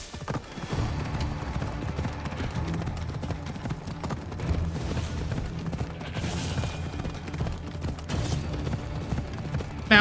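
Donkey hooves clip-clop steadily in Assassin's Creed Odyssey, a continuous rhythmic trot at moderate loudness mixed with game ambience and low rumble throughout.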